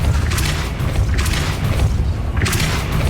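A Depulso spell in the Hogwarts Legacy video game produces deep, rumbling booms that swell in repeated surges over a constant heavy low roar.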